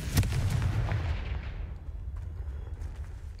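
Confringo blasting spell in a Harry Potter video game, a single booming explosion up close that rumbles and fades away over a few seconds.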